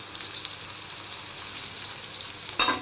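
Three medium chopped onions frying in oil in a pan, a steady soft sizzle with light stirring, then a brief louder burst of spitting near the end.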